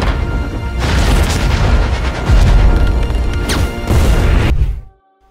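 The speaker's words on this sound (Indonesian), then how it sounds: "Setelah itu, Axel meledakkan dirinya sendiri." A loud, sustained explosion from the self-destructing robot military dog in the film A.X.L, a heavy booming, crashing blast with several surges, cutting off abruptly into silence at the end.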